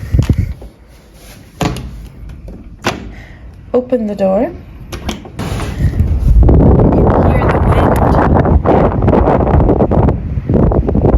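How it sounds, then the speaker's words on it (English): Loud, steady wind by the ocean in the north of Ireland roars and buffets a microphone after a door opens, with a few knocks and rustles before the gusts take over. "in the north of Ireland it is very windy"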